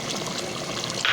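Water poured into a cooking pot of chicken qorma with onion paste, ginger and spices, a brief steady splashing pour that swells near the end, heard alone.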